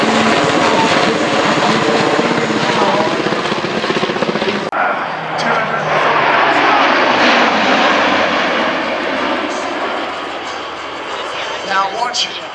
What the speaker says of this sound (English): He will pull up the aircraft and execute a lovely victory roll